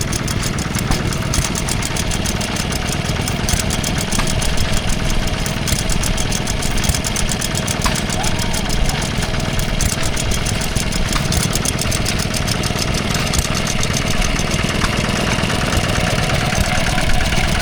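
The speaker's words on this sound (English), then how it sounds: "now we see a ideal 3/4 of a horsepower petrol engine powering a coffee mill from 1890" Small 3/4-horsepower petrol stationary engine at a country show, driving an 1890 coffee mill, chugging steadily and loudly at close range with a constant mechanical clatter throughout, no voices.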